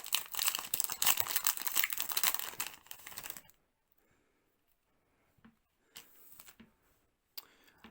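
Yu-Gi-Oh booster packs being torn open: about three and a half seconds of close, busy foil crinkling and tearing, then near silence broken by a few soft rustles and card handling sounds.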